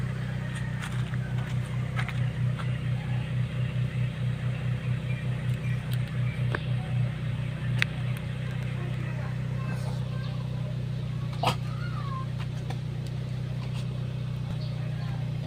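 Idling car engine warming up, a steady low drone with a faint rhythmic pulsing in the first half, held at a close, even level throughout, with small clicks and no talk over it.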